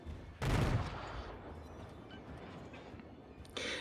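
A Japanese tier IV cruiser, the Yubari, fires on a beached battleship Wyoming in the naval game World of Warships, with a loud booming salvo followed by a long rumbling roar and a fainter shot near the end.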